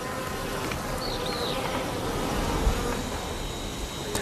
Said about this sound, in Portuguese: As abelhas laranja logo saem da colmeia.